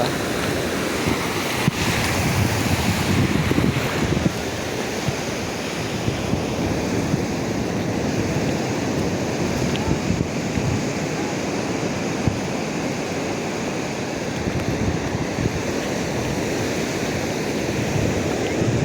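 Ocean waves wash steadily onto Suryalanka Beach near Bapatla with a constant roaring surf and some wind buffeting the microphone, no voices.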